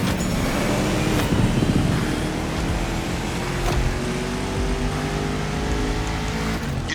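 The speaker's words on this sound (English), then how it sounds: "You're driving my #1 car, the star of my collection, the 1969 Mustang Boss 429." A 1969 Mustang Boss 429 V8 roars continuously in a racing game, its engine note droning and slowly climbing in pitch under steady acceleration, loud and close.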